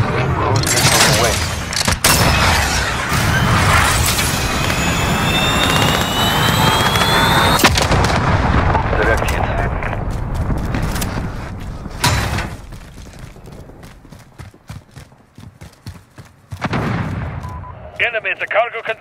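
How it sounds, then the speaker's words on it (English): Cruise missile launched in a Call of Duty Modern Warfare hardcore Domination match at Suldal Harbor, a loud sustained roaring rush followed by heavy booming impact blasts, with gunfire and clattering battle noise around it and brief game voice callouts. "Cruise missile away."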